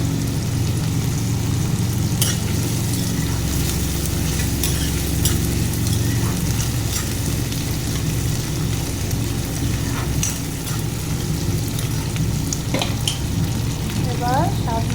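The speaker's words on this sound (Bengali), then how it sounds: "কাঁচামরিচ, পেঁয়াজ তাকে দিয়ে একটু লাল করে ভেজে নেব।" Green chilies, onion and dry fish fry in a pan for a Bengali dry fish chutney, giving a constant close sizzle broken by scraping stirs.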